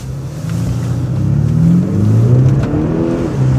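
An Audi SQ5 accelerating hard, its engine revving up through rising tones with audible gear changes, loud and close with no talking.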